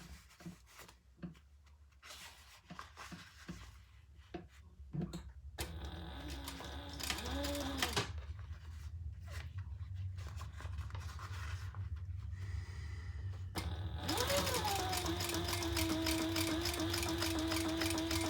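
A sewing machine topstitches a leather bottom gusset for a black leather bag, with quiet handling and rubbing sounds first, then sustained bursts of rapid, even mechanical stitching that grow louder toward the end, without any talk.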